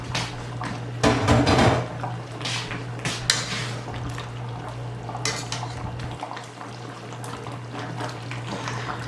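Steak and onions for Puerto Rican bistec encebollado are stirred in a cooking pan, with metal utensil scrapes and clinks against the pan in bursts across the clip, close and moderately loud, with a steady low hum underneath.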